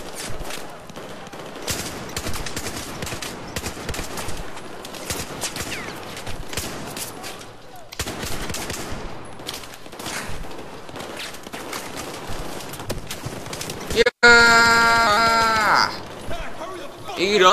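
Repeated gunfire in Battlefield 4, bursts of shots in uneven clusters over a steady battle din, with sharper ringing effects near the end and a voice talking over it.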